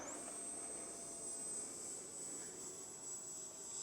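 A radio-controlled Red Arrow model jet takes off, its turbine giving a steady, loud high-pitched whine over a broad rushing roar that holds for several seconds without voices.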